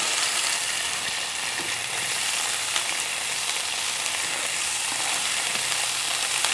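Onions and garlic sizzling in hot oil in a pan, a steady, bright hiss with faint crackles and an occasional stir, constant in level throughout with no voices.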